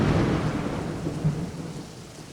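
Thunder from an electrical storm rolls as a deep, broad rumble over steady falling rain, loud at first and gradually fading.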